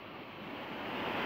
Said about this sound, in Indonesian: Kencang teman-teman arusnya nih, bahaya nih